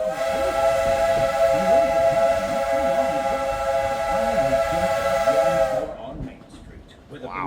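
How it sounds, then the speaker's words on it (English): A Magic Kingdom steam train pulls away from the Main Street station, its loud multi-tone steam whistle blowing steadily for about six seconds over the chuffing and rumble of the train, then cutting off as quieter rolling noise continues. "We're currently departing Main Street."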